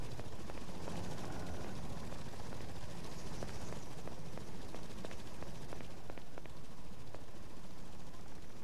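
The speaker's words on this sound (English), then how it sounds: "Oh, it's two choppers now." Two helicopters hover in the video game Lost Alpha, a faint, continuous rotor drone with scattered sharp clicks and pops on top, no speech over it.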